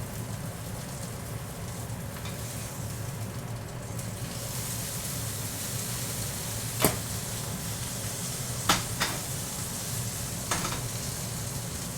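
Steak sizzling in a frying pan: a continuous dense hiss and crackle of frying fat, steady throughout, with a few louder pops and clinks near the end.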